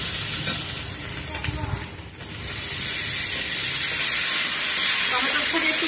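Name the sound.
chopped tomato added to sizzling pan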